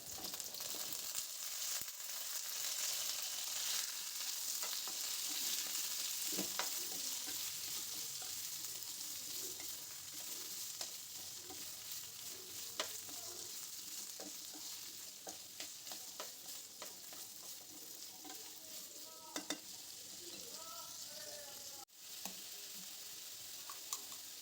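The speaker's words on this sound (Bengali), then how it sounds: "আলুটা ভাজতে ভাজতে আমি কাঁঠালটা দিয়ে দেব।" Potatoes frying in a pan as jackfruit goes in and gets stirred, a continuous soft sizzle with scattered scraping and stirring knocks.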